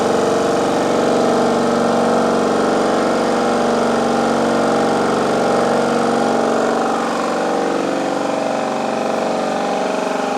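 An air compressor, likely the Chicago Air Hush 150, runs steadily while building up to 145 psi. Its motor and pump hum evenly and loudly, and the pitch eases slightly toward the end.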